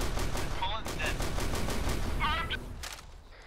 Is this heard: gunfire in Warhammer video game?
yes